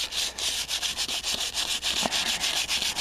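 Hand sanding on a car's rear quarter panel makes a steady back-and-forth rasp in quick, even strokes, close and fairly loud, with no voices over it.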